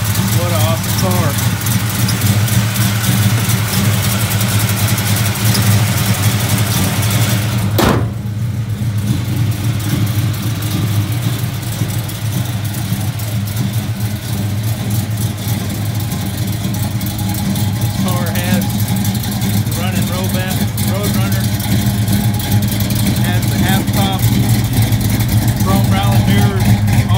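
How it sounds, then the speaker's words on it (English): A 1972 Plymouth Roadrunner resto-mod with a 440 big block V8 idles loud and steady with a deep lumpy rumble throughout, while people talk over it. "Wow, listen to that big block bump."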